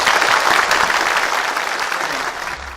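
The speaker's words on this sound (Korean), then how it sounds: "박수 한번 보내주십시오." Loud, dense applause from a large audience at a Korean Ministry of Justice ceremony, a continuous wash of clapping that slowly tapers off.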